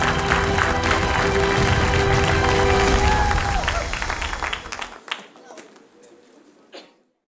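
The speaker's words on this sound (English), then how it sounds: "A round of applause, please." A crowd applauds loudly with some cheering at a Rocket League esports match, then the clapping thins out and fades away, leaving a few scattered claps at the end.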